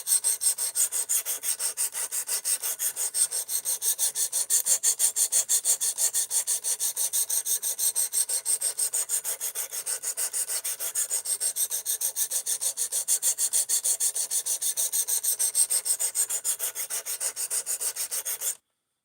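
An Ozark Trail Axis Lock knife blade scrapes back and forth on a sharpening stone in fast, even strokes, close and continuous for the whole stretch before stopping abruptly.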